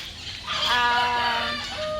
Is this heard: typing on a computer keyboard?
no